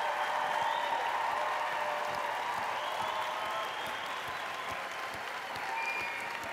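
Sustained applause from a conference audience in Anaheim, a dense wash of many hands clapping steadily and fairly distant, holding even throughout before easing slightly.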